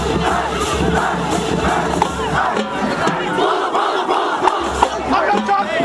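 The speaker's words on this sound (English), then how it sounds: "they were cheering with our band" A football crowd on the sidelines cheers and chants along with a band after a win, a loud, dense mass of voices and shouts with rhythmic, crowd-wide bursts.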